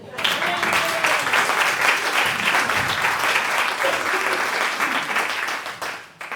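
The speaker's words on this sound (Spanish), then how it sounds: "Vamos a aplaudir a Serra, hombre." Loud, sustained audience applause, a crowd clapping steadily before tapering off near the end.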